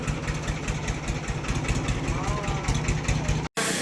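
A Ford 3600 tractor engine idles with a steady low chugging rumble close by, continuous until a brief cut near the end, with voices faintly over it.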